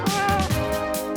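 A cat meows loudly and close up in one sustained, wavering call with no talk over it.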